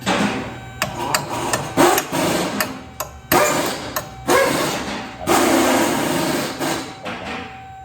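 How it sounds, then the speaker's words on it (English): A hammer strikes metal in short bursts while removing a lower control arm on a 2006 Honda Civic Si, several sharp taps followed by a sustained ringing rasp, close and loud with no talking. "you want a big hammer, a small hammer"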